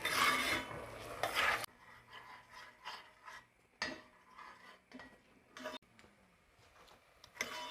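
Risotto rice and white wine are stirred in a pan over medium heat: a dense scraping burst at first, then sparse, irregular spoon scrapes and light clicks against the pan.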